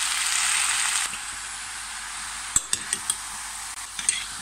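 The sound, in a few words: stirring minced meat and onions frying in a pan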